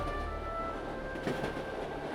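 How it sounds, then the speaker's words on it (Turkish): A train rolls along rails in a steady, moderately close rumble with faint high squeal tones, a brief surge of rattling near the middle, no voices. "tren sesi duyulur"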